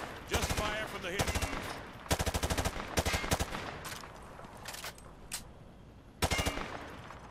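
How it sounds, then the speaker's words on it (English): Rapid bursts of automatic fire from an M4 rifle shot from the hip in Modern Warfare 2 Remastered, several sharp volleys spread across the clip with quieter game ambience between them. "He sprayed bullets all over the damn place."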